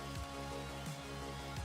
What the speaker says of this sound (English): it's raining right now as we're saying goodbye